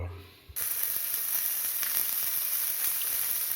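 Food cooking on a Moulinex Accessimo plancha griddle. After half a second of near silence a loud, even sizzle begins abruptly and holds steady, with a slight crackle.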